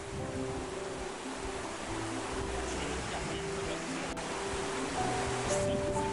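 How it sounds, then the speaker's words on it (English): Glacier meltwater trickles and washes steadily near the headwaters of the Swiftcurrent River in Glacier National Park, a continuous close rushing hiss with no voices. "The falls begin at a melting glacier. This trickle will soon join others, forming the Swiftcurrent River"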